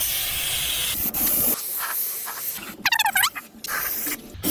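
A compressor-fed spray gun paints the underbody of a Land Rover Discovery black during restoration, a loud steady hiss that cuts off, followed by squeaky sputters and short spray bursts.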